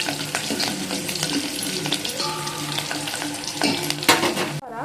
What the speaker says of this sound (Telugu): ఉల్లిగడ్డ ఇప్పుడైతే ఇవైతే మంచిగా మగ్గించుకుందాం